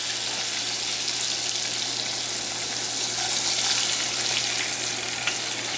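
A burger frying in oil in a pan gives off a steady, dense sizzle that holds loud and even from start to finish, with faint running water from a tap behind it and no voices.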